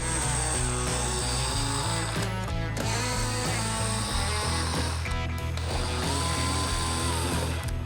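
A ratchet wrench backing out the headlight mounting screws on a Harley-Davidson Softail, clicking in a steady, rapid rhythm up close, with brief pauses between runs of turns.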